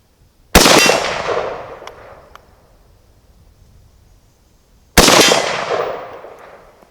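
Two loud SKS rifle shots about four seconds apart, each a sharp crack with a long rolling outdoor echo, fired at steel target plates, with faint metallic pings after the first.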